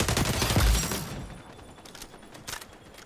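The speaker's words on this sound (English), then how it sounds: "Heard the gunshots." Bursts of gunfire in the XDefiant video game, a dense loud volley at first that fades out after about a second, followed by scattered fainter shots further off.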